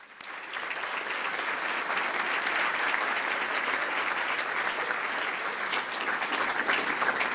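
A large audience at a business forecast event breaks into sustained applause, dense clapping rising quickly and holding steady for several seconds.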